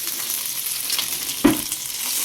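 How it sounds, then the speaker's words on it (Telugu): Green chillies frying in a spoonful of oil in a kadai, a steady close sizzle with a brief louder clatter of stirring midway. "పచ్చిమిర్చి వేయించుకోవాలి"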